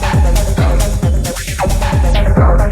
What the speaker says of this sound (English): This next one's Echo.